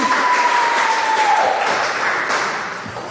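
Church congregation applauding during a Sunday worship service, a dense, steady wash of clapping from a full room that holds for about three seconds and then begins to thin toward the end.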